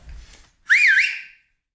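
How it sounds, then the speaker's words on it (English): A loud, clear taxi whistle made without fingers in the mouth: one rising and falling pitch that sweeps up and down, held for under a second after a short quiet gap. "Taxi whistle without putting my fingers in my mouth."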